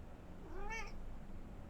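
A house cat lets out a single rising-and-falling meow, fairly close but soft, against a quiet room with no talking.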